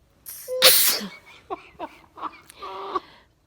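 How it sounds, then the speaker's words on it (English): A sudden sneeze with a short rising breath before it, then a few sniffles and small whimpering vocal sounds, close and fairly loud in a quiet room. "I felt the sneeze coming on all day,"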